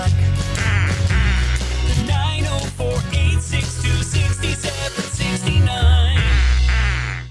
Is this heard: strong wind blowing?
no